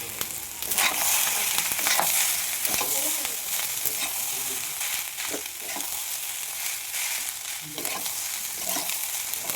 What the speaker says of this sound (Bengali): ভাতগুলো ভালো করে নাড়াচাড়া করবে, সব কিছু মাখিয়ে নেবে।